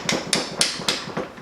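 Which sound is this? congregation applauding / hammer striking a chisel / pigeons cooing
hammer striking a chisel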